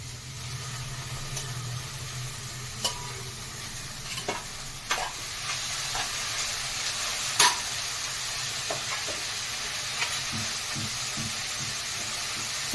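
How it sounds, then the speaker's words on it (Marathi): Chopped vegetables frying with sautéed onion that has turned slightly pink, a steady close sizzle under occasional spatula clinks and scrapes, with a low hum early on and no talking. "यात आपण आता चिरलेली भाजी टाकूया"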